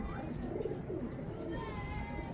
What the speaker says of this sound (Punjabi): ਤੁਹਾਨੂੰ ਮੈਂ ਤੁਰਦੇ ਫਿਰਦੇ ਕਬੂਤਰ ਦਿਖਾਵਾਂ